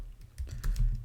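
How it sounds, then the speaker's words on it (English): Close, quick keystrokes on a computer keyboard patter in an uneven run of light clicks and thumps while text is typed into a code editor. "I'm going to just type something"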